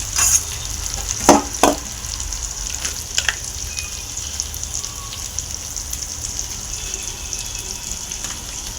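Cut potatoes fry steadily in a pan with a soft, continuous sizzle, broken near the start by a couple of sharp clatters as they are stirred in; no one speaks.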